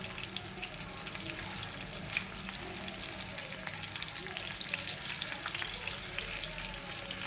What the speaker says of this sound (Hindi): अब इसी तरीके से हम इसे दूसरी साइड से भी फ्राई कर लेंगे